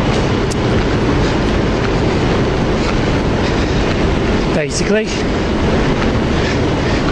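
An old slam-door passenger train with Mark 3 coaches rumbles steadily with clattering wheels and broadband rolling noise, loud and close, with a brief squeal midway and a few spoken words.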